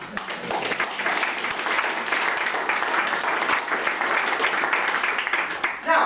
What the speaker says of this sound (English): So I want to suggest that you give yourselves a big round of applause.